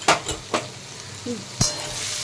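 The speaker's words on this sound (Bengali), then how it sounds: "আদাটা নেড়ে চেড়ে একটুখানি ভেজে নেবো যাতে আদার কাঁচা গন্ধটা চলে যায়।" Ginger fries in a pan with a constant low sizzle, broken by a few distinct stirring scrapes and one louder clatter against the pan.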